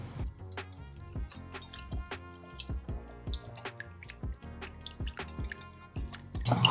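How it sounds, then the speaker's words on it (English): A whisk beats a Meyer lemon and maple syrup salad dressing in a bowl, tapping out quick, light, wet clinks in an uneven rhythm, close and fairly quiet, with no talking. "So we're gonna whisk this together."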